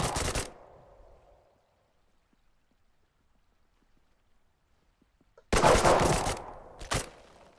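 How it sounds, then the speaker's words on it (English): A grenade blast and gunfire in the tactical shooter Thunder Tier One: a sharp burst with a fading rumble, a long quiet gap, then two loud, close bursts of fire near the end. "That was a grenade."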